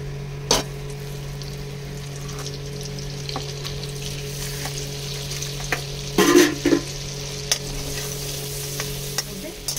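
Butter melting in a pan while making white sauce pasta, a soft steady sizzle with a faint hum underneath and a brief clatter of stirring midway.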